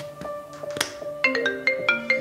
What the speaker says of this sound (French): Oh, c'est mon téléphone.